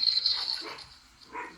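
Puppies barking briefly in a room, a few short yips and barks that are moderately loud, close by and heard with no talking over them.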